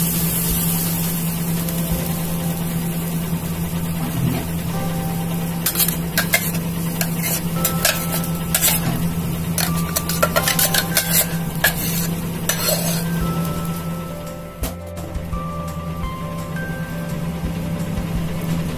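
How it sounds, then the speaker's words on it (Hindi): Mango puree stirred and cooked in a hot pan, with a steady low sizzle and repeated scraping and clinking of a spoon against the pan running throughout, close and fairly loud. "पैन गरम हो गया है, अब इस प्यूरी को हम डाल देंगे इसमें।"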